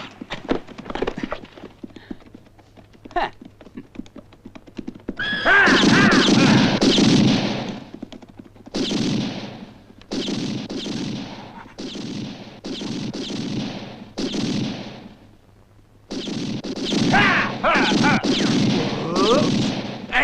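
Gunshots in a film scene ring out as loud, repeated blasts in several clusters, mixed with what sound like horse hoofbeats and occasional voices.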